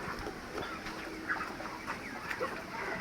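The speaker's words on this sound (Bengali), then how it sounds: "এই যে খামারে মুরগি ভরপুর।" Thirty-three-day-old broiler chickens cluck and murmur steadily in an open, airy farm shed, a dense continuous flock sound with no talking.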